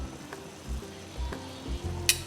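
Rasagulla simmers in sugar syrup with cardamom over a high flame, a soft continuous bubbling and sizzling with low rhythmic pulses, close and quiet, with no voices.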